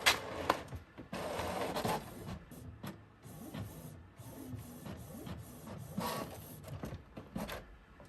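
A printer running a sheet of gold water slide decal paper, a steady mechanical whir with shuffling feed bursts and brief clicks, continuous and fairly close throughout.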